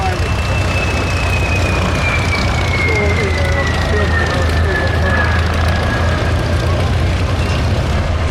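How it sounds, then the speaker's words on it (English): A de Havilland Goblin 3 jet engine aircraft flying at an airshow, a continuous loud roar with a slowly falling whine as it passes, heard under a commentator talking. "it's powered by the Havilland Goblin 3 jet engine."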